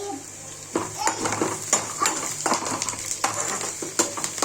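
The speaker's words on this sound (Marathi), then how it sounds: "कांदाही छान परतला जातो आणि त्याचबरोबरीने शेंगदाणे पण छान तरपूस तळले जातो" Peanuts and onion frying in a pan while poha is cooked, with close metallic scraping and stirring clatter in repeated strokes over a low steady sizzle.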